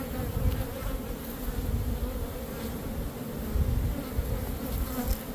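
Honey bees swarm around an opened hive while frames are handled, a dense, continuous close buzz hanging steady throughout with the occasional louder bee passing nearby.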